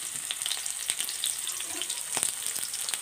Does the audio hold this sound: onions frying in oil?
yes